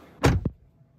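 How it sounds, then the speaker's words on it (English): A car door on a 2022 Kia Sorento slams shut with one solid thump, followed a moment later by a second lighter thud, close up in a quiet setting. "So the doors are closed once more."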